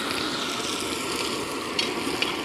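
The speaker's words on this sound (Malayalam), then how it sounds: "ഇനി നമ്മൾ വേപ്പല കുറച്ച് കീറിയത് കുറച്ച് വേപ്പലയാണ് ഇടാൻ പോണതിൻ്റെ അകത്തേക്ക്" Torn curry leaves hitting hot oil in a pan of seer fish curry, a steady close sizzle and crackle with a couple of brief louder pops, no talking.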